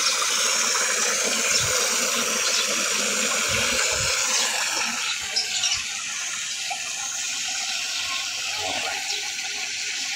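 Water pours into an aquarium being filled to the top, a continuous splashing, gurgling rush that softens slightly midway, with no talking.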